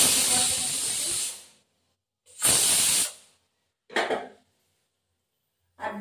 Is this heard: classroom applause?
no